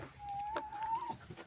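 Leghorn chickens in a home coop give a steady, nearby clucking call with a sustained tonal note and a few short sharper clucks, with no talk over it.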